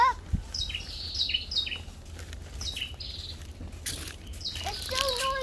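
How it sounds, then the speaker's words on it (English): Birds chirp in a park, several short high calls scattered across the clip over a steady low rumble of background noise, with faint voices nearby. "Can you hear the chirping sound?"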